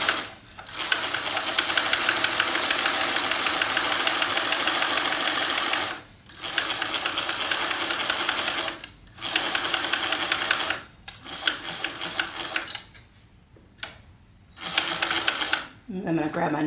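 A sewing machine stitches in long, fast-running bursts with brief pauses between them, including short back stitches, loud and close, and a person speaks intermittently around the stitching.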